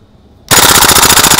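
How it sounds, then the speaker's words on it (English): A G&G GBB M4 CM16 gas blowback airsoft rifle dry-firing on full auto: a sudden loud, rapid burst of evenly spaced mechanical clacks that starts abruptly and runs steadily to the end, with no talk. "we're going to do a dry fire rate of fire test"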